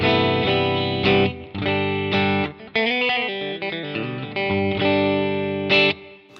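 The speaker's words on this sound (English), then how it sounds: "I'm running just my Scythe Jazzmaster type guitar into the Deco" A clean Jazzmaster-style electric guitar plays sustained chords and a few single notes through a Strymon Deco tape pedal, with gentle wobble and reverb tails, no voices.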